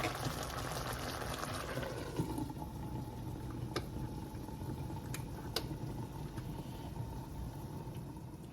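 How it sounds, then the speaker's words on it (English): A pot of Haitian black rice simmers on low heat on a stove, giving a quiet, continuous bubbling hiss with a few faint clicks, steady throughout and without voices. "gonna turn the stove down now and just let it slow cook"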